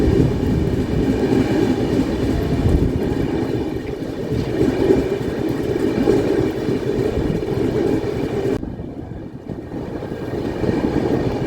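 The 12615 Grand Trunk Express rolls along in a loud, steady rumble heard from inside a 3rd AC coach, a continuous low roar that dulls slightly near the end.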